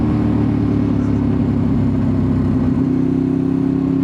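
A Ducati 848 sport motorcycle engine pulls in third gear, a loud, steady, close-up drone with a strong low harmonic hum that holds constant throughout without pauses or talk.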